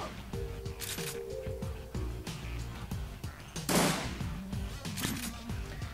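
Shotgun blasts in the Shadowrun Returns video game, one loud broadband burst near the middle and fainter shots later, set over a busy game soundtrack with tonal music and clicks.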